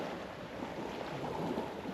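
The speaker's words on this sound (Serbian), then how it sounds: "samo šum mora i škripu pod nogama" Sea surf washes onto a wide sandy Greek beach on an early cloudy morning, a continuous low rushing wash with wind noise across the microphone, no voices.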